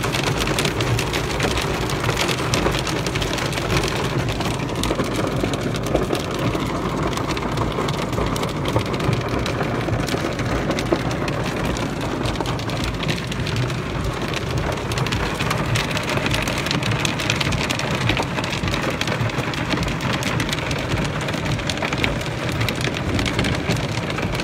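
Torrential rain pours down steadily and loudly during a hailstorm that damaged gardens and halted traffic, a dense, unbroken wash of drops with possible distant thunder rumbling underneath, no voices.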